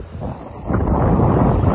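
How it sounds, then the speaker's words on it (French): Steady wind roars across a sailboat moving fast at sea in about 14 knots of true wind, rising louder partway through and then holding as a continuous broadband rush with no voices. "Et en fait là j'ai 12 nœuds et 14 de vent réel"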